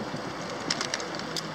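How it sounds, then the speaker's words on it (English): Pigeons at Venice Beach give faint, brief coos and chirps over a steady outdoor background hum, with no voices. "Birds."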